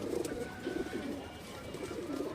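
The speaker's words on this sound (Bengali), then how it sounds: "অনেক সুন্দর একটা সবুজ গলা মাদি কবুতর দর্শক" A female pigeon with a green neck coos softly in repeated low, rolling phrases, heard close but quiet, with no voices around.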